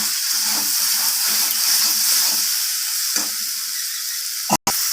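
Fish roe and vegetable curry sautéing in a pan gives a steady loud sizzle with repeated stirring scrapes, clear and close, and one brief dropout near the end.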